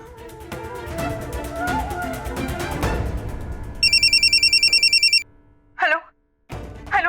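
Landline telephone rings in a household scene from an Indian TV drama, a rapid electronic trill in one long burst followed by two shorter bursts, coming after background music and clatter.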